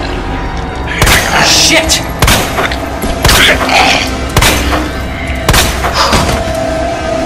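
Gunshots from Resident Evil 2, heavy booming reports fired about once every second, loud and close, with a man cursing between them.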